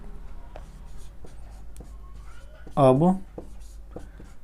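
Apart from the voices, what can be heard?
writing on paper while solving math equation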